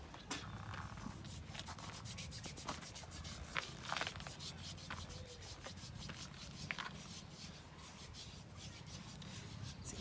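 Steady rubbing on skin with a nut and a cinnamon leaf during a traditional Tongan beauty treatment, a close, continuous rasping scrub with quick repeated strokes, soft and even throughout.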